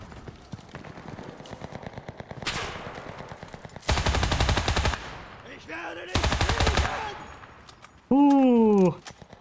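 Machine gun fire in an Axis guerilla squad shooter game, rapid bursts rattling through most of the clip with louder sustained volleys midway, ending in a rising game alert tone.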